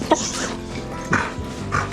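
A female dog on a fishing trip along the Withlacoochee gives a few brief, close whimpers and soft yips, spaced out against steady outdoor background noise.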